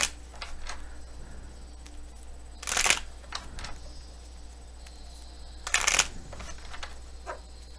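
Tarot cards being shuffled in two short, crisp bursts of riffling, each about a third of a second, with soft handling rustles and small ticks in between against a quiet room.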